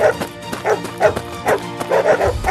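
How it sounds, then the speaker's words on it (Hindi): Wild dogs bark repeatedly in quick, irregular bursts as a story sound effect, loud and close, with some yipping and whimpering mixed in, and no speech over them. "कुछ जंगली कुत्ते आर्यन के पीछे पड़ जाते हैं।"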